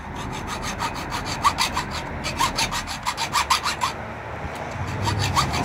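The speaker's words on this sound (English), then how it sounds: "So it's the hacksaw test." A hacksaw cuts through a BikeGuard Ratlink 600 bike chain, with close, rhythmic rasping back-and-forth strokes repeating steadily and a brief pause in the middle.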